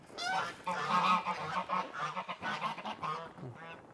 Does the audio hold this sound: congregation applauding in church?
no